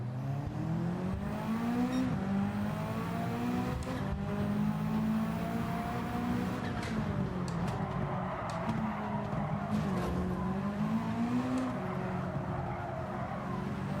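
Engines and tires from the mobile racing game Real Racing 3 drone steadily for the whole stretch, pitch rising and falling with gear changes and occasional skids, loud and continuous with no talking.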